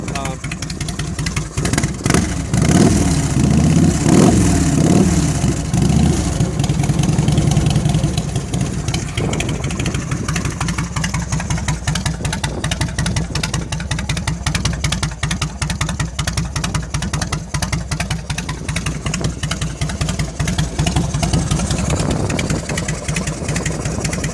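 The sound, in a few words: 1999 Harley-Davidson Heritage Softail Classic engine running, Vance and Hines pipes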